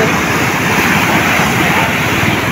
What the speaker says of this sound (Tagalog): Nalaking alon sa likod nila.